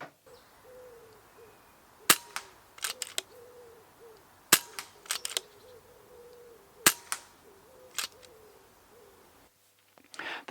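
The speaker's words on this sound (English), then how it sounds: "the loading handle here, and it is super smooth and it clicks very surely into position" Loading handle of an FX Dynamic Compact Takedown VP 177 air rifle working into position: a series of sharp, crisp mechanical clicks spaced a second or two apart, close and clear over a quiet background.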